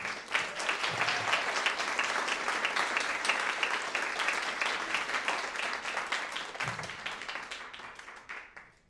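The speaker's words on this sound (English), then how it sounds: "Please give a warm round of applause for Saira Hamid" An audience at a live science storytelling event applauds a speaker being introduced, a full, even roll of many hands clapping that stays steady for several seconds before tapering off at the end.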